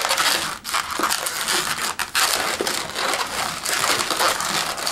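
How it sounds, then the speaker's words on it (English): A latex balloon is twisted into a fold twist for a balloon animal, giving loud, close, continuous squeaking, rubbing and crinkling with a few brief dips and no talking. "Now back wheel, just make a fold twist."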